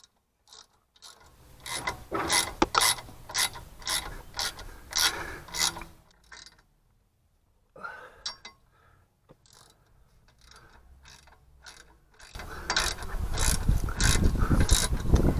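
A ratchet runs down bolts on a Terrafirma 2-inch lift kit fitted to a Land Rover Discovery 2, giving quick bursts of clicking pawl strokes up close, pauses of near silence, then a harsher grinding rattle at the end.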